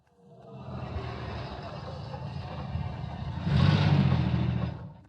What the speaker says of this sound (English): Now let's hear the car come back.